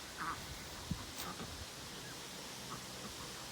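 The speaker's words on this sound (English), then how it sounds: "I keep silver apple yard ducks, and that's what all these are." Silver Appleyard ducks quack faintly at a distance on a farm, a few sparse calls over steady outdoor background hiss.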